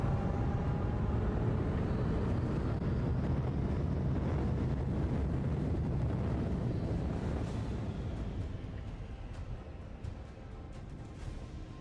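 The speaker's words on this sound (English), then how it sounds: "Engage the engines." Starship engines of Warhammer 40,000: Rogue Trader starting up: a deep, broad rumbling roar with wind-like rush that holds steady and then gradually fades lower, no talking.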